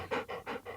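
A puppy pants in quick rhythmic breaths, about three close, fairly loud huffs in a row with nothing else around them.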